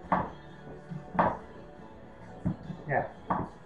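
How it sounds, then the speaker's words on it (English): Knife chopping potatoes and onions into even pieces on a cutting board while preparing roasted vegetables, a handful of separate, fairly loud thunks spaced about a second apart. "cut them the same, cut them so they're all going to cook together"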